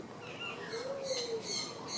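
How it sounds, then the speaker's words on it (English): A bird calls near a child in a short outdoor moment: a soft rising-and-falling whistled note in the middle, with fainter high chirps repeating toward the end. A low background hiss runs throughout, and there is no talk. "Ooh, that's a pretty bird."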